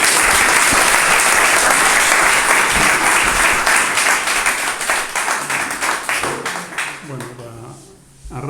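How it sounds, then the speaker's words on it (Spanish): Audience applause at a talk about caregiving, dense loud clapping from a crowd that gradually thins into scattered claps and fades, with voices rising beneath it toward the end. "adelante, un aplauso."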